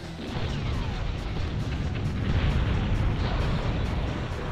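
Explosions from the N64 game BattleTanx Global Assault roll together as a continuous rumbling barrage of blasts and crashes, with no talk over them.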